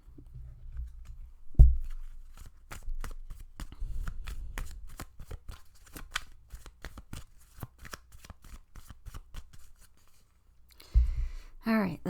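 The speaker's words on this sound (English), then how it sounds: "So let's pull some more cards" Tarot cards are shuffled and drawn from a deck, giving a long run of quick, crisp card flicks and slides close to the microphone, with a few louder thumps and handling noises at the start and end.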